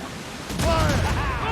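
Ship cannon fire in Assassin's Creed Rogue during a naval battle: a loud, dense booming volley opens about halfway through and rolls on, laid over the game's background din and voices.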